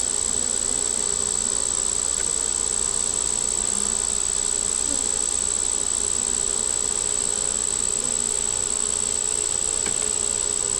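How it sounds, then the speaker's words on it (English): Honey bees swarm thickly around an open hive, a dense continuous buzz holding level and close throughout, with no voices over it. "Maybe these bees just figured I got out here too early."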